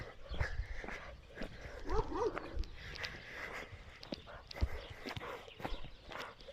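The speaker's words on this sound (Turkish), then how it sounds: "Burada bir köpek var" Several short barks and yelps from a dog sound fairly close amid rustling, footsteps and a person's voice, with a brief whimpering cry in the middle.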